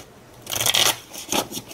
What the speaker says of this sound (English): Not gonna worry about shuffling these up too much